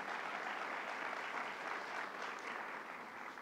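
A crowd applauds steadily at a governor's bill-signing event for legislation protecting immigrant children, dense and sustained clapping with no pauses, fairly distant and moderately quiet.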